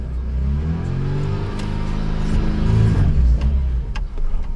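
Car engine revving through the gears on a junkyard test drive of a 86C, a loud, rising and falling mid-pitched drone close by, with no talk.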